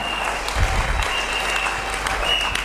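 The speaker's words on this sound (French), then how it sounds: "Acclamons pour le Seigneur." A church congregation breaks into applause during a sermon, a dense crowd clapping that swells briefly and then carries on steadily under a faint background hum.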